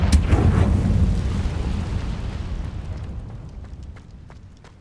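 Hogwarts Legacy's Confringo fire spell hitting, a single heavy boom that starts loud and close and then fades slowly into a long rumbling tail over several seconds.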